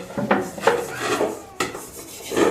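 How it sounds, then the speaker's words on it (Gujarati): A tava griddle and other dishes get washed, with scraping, rubbing strokes and clattering metal knocks in an uneven rhythm, close and fairly loud. "આ તવિયું ધોવે છે"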